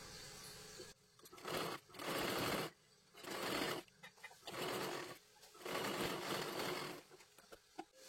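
A sewing machine double-stitches a sleeve seam, running in about five steady bursts of whirring stitching separated by short pauses, close and clear.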